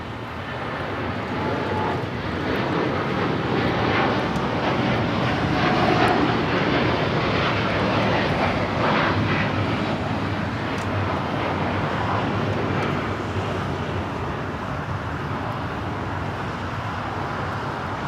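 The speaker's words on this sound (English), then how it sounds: "We have the United Dreamliner now rolling." A United Boeing 787 Dreamliner, flight 801 to Hong Kong, rolls for takeoff at Los Angeles airport, giving a steady, moderately loud jet roar that holds throughout with a faint hiss on top and no speech.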